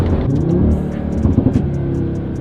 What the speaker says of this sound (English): That was a good burble.